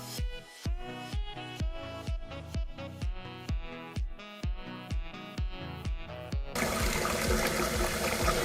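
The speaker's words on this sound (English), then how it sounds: "I'm using really hot water here, just fill it up and get any of the excess liquid out" Really hot water rushes from a tap into a blender jug to rinse it out, a loud, steady pouring hiss that starts suddenly near the end after a run of rhythmic tonal pulses.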